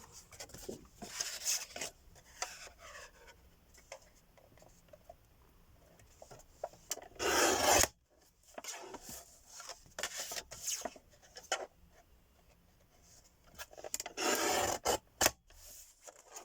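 Card stock is trimmed down on a paper trimmer while making a golden flower card, giving two short, close scraping slides of the blade among soft paper rustling and handling.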